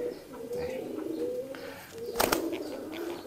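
Pigeons kept as breeding stock coo close by in low, throaty murmuring calls, with a brief sharp flutter or bump partway through.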